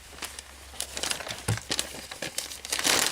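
Thin plastic trash bag crinkling and rustling as it is bunched and handled up close, a steady run of crackly bursts that swell louder toward the end.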